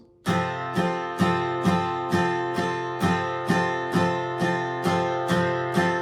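Steady acoustic guitar strumming, all downstrokes, about two strums per second with ringing chords, played alone at a moderate volume.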